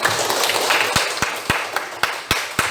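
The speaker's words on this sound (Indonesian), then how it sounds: "tepuk tangan untuk Putri nak" A classroom gives a student a brief, thin round of applause: a handful of sharp, separate claps scattered over a few seconds, close by and fairly quiet.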